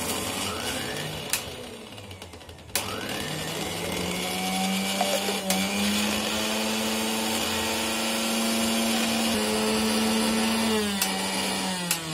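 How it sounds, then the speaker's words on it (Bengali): Electric mixer grinder blending boiled soybeans into a thick paste, a steady loud motor whine that rises in pitch as it spins up, with brief pauses and restarts, no talking. "এবার প্রথমে যে সোয়াবিনগুলো সেদ্ধ করেছিলাম ওগুলো মিক্সিতে দিয়ে পেস্ট করে নেব।"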